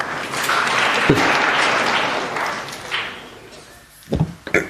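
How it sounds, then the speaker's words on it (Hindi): An audience at an evening satsang in an ashram breaks into loud, dense clapping. It thins into scattered claps with a few sharp final smacks. "दे ताली"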